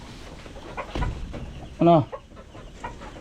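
Laying hens clucking beside their nests in a small farm hut, one loud short cackle rising clearly over quieter background sounds and a brief spoken word.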